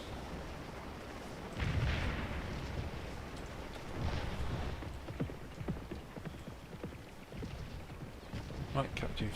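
Booming artillery and scattered gunfire in the Scourge of War battle game, several dull blasts rolling out at a moderate distance, with a voice talking over the top.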